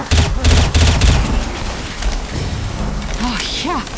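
Bursts of close, loud gunfire in Left 4 Dead 2 fill the first second and a half, then thin into scattered shots as voices start talking over the fading firefight.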